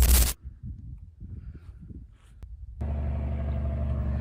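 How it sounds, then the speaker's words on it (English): A logging truck on a quiet forest road on public land, a low rumbling engine that fades, then returns as a steady loud close drone near the end after a brief loud burst at the start. "This is the third logging truck I've seen this morning."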